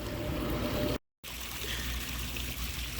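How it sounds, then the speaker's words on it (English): Water treatment chemicals pour into a backyard pond with a continuous trickling, splashing flow, broken by a brief moment of silence before the steady pouring resumes. "And you won't waste a whole lot of money on these chemicals that I'm getting ready to pour in."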